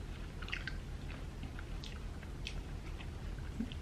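Close, soft chewing of German HARIBO gummy candy, wet squishy bites repeating irregularly over a few seconds, quiet and with no talking.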